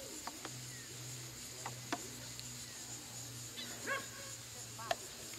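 A few faint, scattered dog yips and barks drift in from a distance over a steady outdoor hum with insects chirring in the background.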